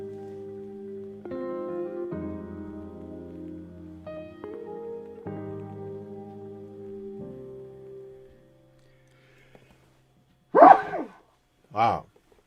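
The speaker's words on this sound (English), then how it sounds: "that sneeze came out of nowhere" Two sharp, loud sneezes in quick succession burst out after some musical tones fade into silence.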